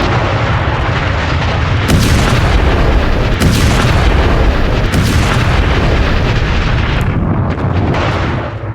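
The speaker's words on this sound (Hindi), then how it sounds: "वहां बारूद बिछाया और उसे उड़ा दिया।" A tunnel is blown up with laid explosives by the Israeli army, giving a loud, continuous roaring blast rumble with several sharp bursts layered over it, sustained for nearly nine seconds before easing at the end.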